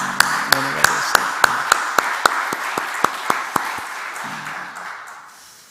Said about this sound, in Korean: 귀한 믿음의 딸들에게 우리 박수 한번 할까요?